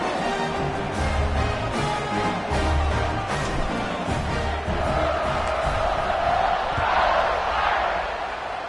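A football stadium crowd roars at the kickoff, a broad, steady wash of distant cheering that swells louder toward the end.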